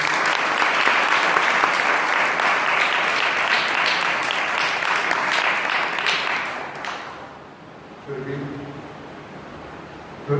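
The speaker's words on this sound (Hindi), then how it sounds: "ताली बजाकर लोगों को स्वागत करें" An audience at a church Vacation Bible School 2021 inauguration claps to welcome a guest. The applause is dense and sustained, then fades out after about seven seconds into a quieter room.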